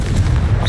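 A Confringo spell explosion in the video game Hogwarts Legacy: a single short, heavy boom with a deep low rumble, loud and close, lasting under a second.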